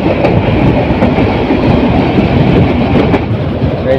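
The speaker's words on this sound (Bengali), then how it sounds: "ট্রেনটির এখানে যাত্রা বিরতি নেই।" A Bolaka Commuter train on the Mymensingh to Dhaka line roars loudly through a station without stopping, wheels rattling in a continuous heavy clatter close by, with faint clicks of rail joints.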